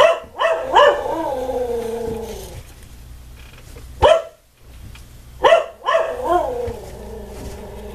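A pet dog barks indoors in loud, close bursts: a cluster at the start, then two more volleys separated by short pauses, with a hint of growling between them.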